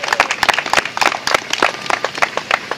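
A small group at a university groundbreaking ceremony claps in scattered, uneven applause, close by and moderately loud, with no voices over it.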